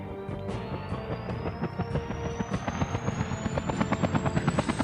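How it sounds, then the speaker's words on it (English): Helicopter in the Vietnam-era combat flight game Air Conflicts: Vietnam, its rotor chopping steadily and growing louder, with a turbine whine rising in pitch throughout. "why did I pick a helicopter and then just pick a different helicopter?"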